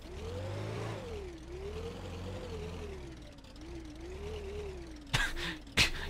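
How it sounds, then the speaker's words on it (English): A small transport truck engine in the video game Brick Rigs, its mid-pitched drone rising and falling as it revs and drives, steady and close, with two brief sharp clunks near the end. "Get in our little transport truck here."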